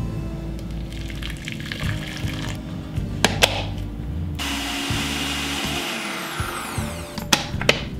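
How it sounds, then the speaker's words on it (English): A blender motor whirs and churns continuously, with a few sharp clunks and a shift in pitch partway through as a heated coconut milk coffee drink swirls. "we're gonna put it in the blender and give it a swirl."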